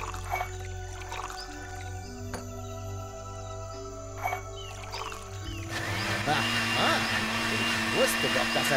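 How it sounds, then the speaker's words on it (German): A blender whirs in the point-and-click video game Deponia Doomsday, a steady mechanical drone that swells louder and noisier partway through, heard alongside game sounds and speech. "Tackleberry Finn darf nicht in den Mixer"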